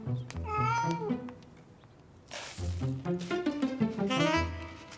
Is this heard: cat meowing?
yes